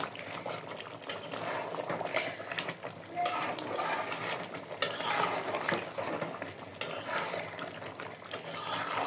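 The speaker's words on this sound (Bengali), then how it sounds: "আমি একটু মুরগিটা লেড়ে দিব" Chicken pieces are stirred in a pan, frying in their own released juices with no added water over raised heat; repeated scraping and clattering of the spoon runs over a continuous bubbling sizzle, close and fairly loud.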